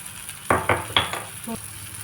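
Eggplant bharit frying in oil in a pan and being stirred, three or four quick scraping strokes of a spoon over a low steady sizzle, close up.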